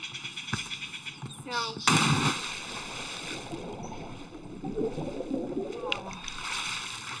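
People jumping into water at a Cancun spring break party, with a sharp splash followed by churning water and rustling, plus a second splash later, amid voices and background commotion.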